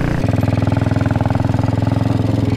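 Royal Enfield Bullet 350, a green single-cylinder motorcycle, idles loud and close with a steady, thumping firing rhythm throughout.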